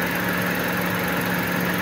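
A car engine runs steadily with its air-conditioning compressor clutch engaged, giving a loud, close, even hum with a constant low drone and no variation, and nobody speaks.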